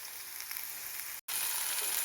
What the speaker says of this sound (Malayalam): ഇനി നമുക്ക് വേവിച്ച് വെച്ചിരിക്കുന്ന ചക്കക്കുരു ഇടാം